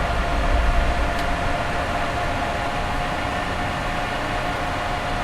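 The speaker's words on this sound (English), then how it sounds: "That signature bus engine sound." A diesel train engine in Train Simulator 2015, running the Riviera Line, gives a steady, dense rumble and hiss. The sound holds at an even level throughout, with a brief click near the start and no talking.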